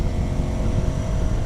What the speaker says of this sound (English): I bet this engine will sing to you